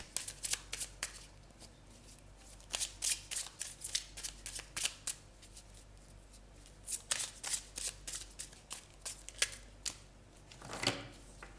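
Tarot cards shuffled by hand in repeated riffling bursts, crisp papery flutters with short pauses between, close and fairly quiet, followed by a card being drawn.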